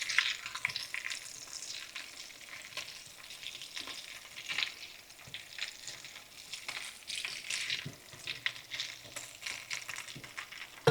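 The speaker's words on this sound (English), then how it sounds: "we want to coat these potatoes in this bacon grease here" Potatoes frying in bacon grease in a pan while a spatula stirs them, giving a steady close sizzle with scraping and patter, no talk over it.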